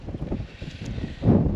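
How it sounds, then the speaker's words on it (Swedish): Chilly wind blows across the open coast of Öland, buffeting the microphone with a low, gusty rumble that swells to a louder gust near the end. "lite blåsigt så det känns väldigt kallt"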